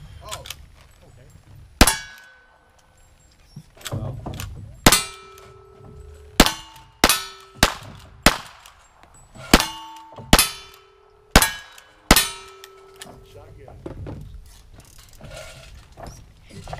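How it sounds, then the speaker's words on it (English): Shotgun blasts ring out on a steel-target shooting stage, around a dozen loud, sharp bangs each followed by a ringing metallic clang, spaced irregularly with quiet gaps between. "Shotgun. Shoot two and make up one."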